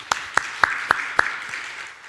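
A church congregation at a Sunday worship service claps together, giving about five sharp, evenly spaced claps in a steady rhythm before the sound falls quiet.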